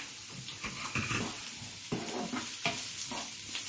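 Onions frying in a pan for a bitter gourd (karela) and potato stir-fry, giving a steady low sizzle with soft scraping stirs and occasional clinks, close by and moderately loud.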